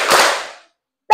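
A classroom of students claps together as part of a counted clapping pattern, a loud burst of overlapping claps that decays, then silence before another sharp sound cuts in at the end.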